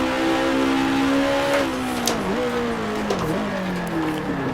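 A race car engine revs hard under steady load, then its pitch dips and rises in two sharp blips as the driver downshifts to second gear for the final corner on a circuit lap; loud and close throughout.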